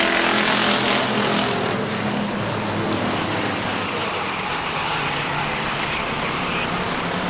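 Race cars roar around a short-track oval during a motorsports event, a dense, loud, continuous engine wash with no breaks.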